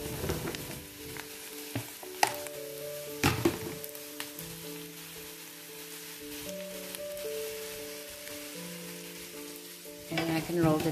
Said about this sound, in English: Our mushrooms are cooking